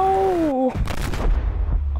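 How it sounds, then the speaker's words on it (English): A big explosion in the underwater survival game Subnautica: a falling electronic tone cuts off into a loud, close blast, followed by a crackling burst and a deep lingering rumble. "That was a big explosion."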